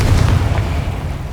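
A Confringo blasting spell detonates in Hogwarts Legacy, a loud, deep boom with a rumbling low-end burst that decays over about a second, with no voices over it.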